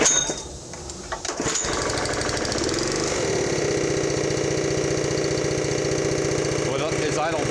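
Honda GX140 gas engine on a Jenny air compressor, idling cold after settling back, a loud close steady chugging knock that drops from a rougher start into an even idle.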